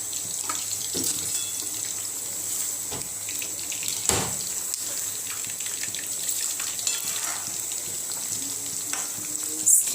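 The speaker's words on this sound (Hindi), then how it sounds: "स्लो फ्लेम में हम चिकन को फ्राई करेंगे" Chicken wings frying on a slow flame, a steady hiss of sizzling oil running throughout with occasional brief clicks and stirring sounds, close and moderately loud with no talking.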